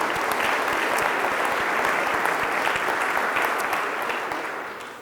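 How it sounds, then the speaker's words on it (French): Steady, dense audience applause at a science and research excellence event, continuous clapping for several seconds that fades out toward the end. "On peut l'applaudir aussi, bien entendu."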